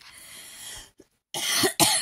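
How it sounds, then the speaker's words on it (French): Two sharp, loud coughs close to the microphone, following a stretch of breathy noise and a short pause. "Excusez-moi, je tousse."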